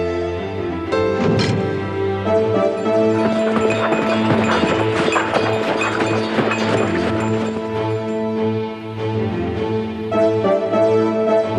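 A king's horses gallop, their hooves clip-clopping loudly in a fast, continuous rhythm, set against swelling orchestral music with no speech.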